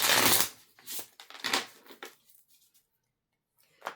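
Tarot cards are shuffled close by in a few quick riffling bursts, each fading to near silence between them, quiet and alone without talk.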